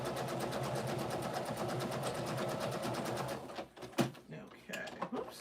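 Steady machine stitching runs along either side of a marked line on a quilt piece, a close, even motor hum with fast needle pulses that breaks off partway, followed by a few clicks and handling noises while someone talks.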